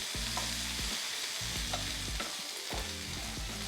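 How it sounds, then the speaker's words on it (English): Onions and peppers sizzle loudly on a hot Ninja Foodi indoor grill, with periodic scraping and stirring sounds breaking through the steady hiss. "Hear that sizzle"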